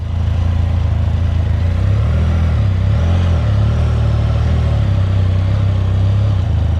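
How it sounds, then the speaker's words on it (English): A Can-Am Spyder F3-S trike with a 1330cc triple Rotax engine runs steadily nearby, a low, throbbing engine drone with slight pitch wavers as the revs shift, loud and alone with no talking. "She is a Can-Am Spyder F3-S with a 1330cc triple Rotax engine."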